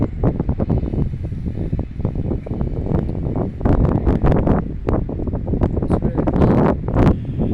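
Warm coastal breeze with the tide coming in, buffeting the microphone as loud, gusty rumbling wind noise that surges and fades continuously, with no voices.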